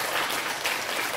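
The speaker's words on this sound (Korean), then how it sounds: "마지막으로 응원의 박수를 좀 보내주시기 바랍니다." Audience at a forum in the National Assembly claps for middle-school students after a debate demonstration, a short dense burst of applause.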